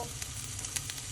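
Onions sizzle and fry in a pan while being softened for a restaurant-style paneer butter masala, a steady close crackling hiss with small pops and no talk.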